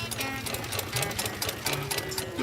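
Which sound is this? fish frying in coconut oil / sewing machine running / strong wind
sewing machine running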